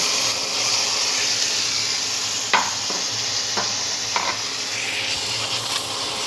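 Tomato paste fries and sizzles in a pan for a jackfruit curry, with a continuous hiss broken by a few sharp spoon-scraping stirs, close and moderately loud with no talking.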